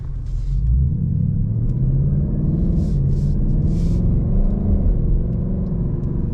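A 2024 Ford Mustang GT V8 rumbles low and loud from inside the cabin as it accelerates on the road, holding a deep steady drone with a faint gear change partway through.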